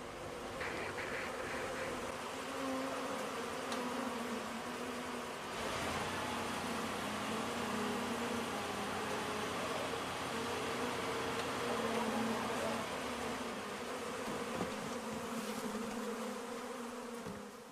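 A dense, steady buzzing of many bees fills the air continuously, loud and close, with no voices.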